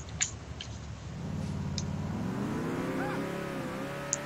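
A car in the GTA video game drives and accelerates, its engine tone rising steadily over a few seconds, with a few brief clicks and knocks on top and no talk.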